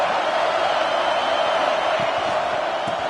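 A stadium crowd at a football game roars in a steady, loud wash of cheering and noise, with no pause.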